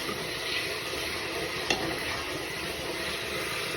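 Tempering sizzles in a pan for a chickpea curry, a steady, close frying hiss that holds evenly throughout without any talk.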